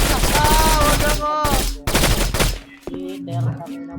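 Rapid loud gunfire bursts in a video game shooter, dense machine-gun style volleys with sharp cracks, then scattered single shots and clatter.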